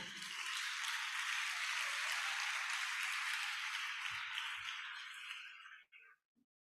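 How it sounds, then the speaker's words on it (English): Matriculants give a round of applause at a university matriculation ceremony, a dense, even crowd clapping that holds steady for several seconds and then cuts off abruptly, followed by a few faint thuds. "please can you give yourself a resounding round of applause for today."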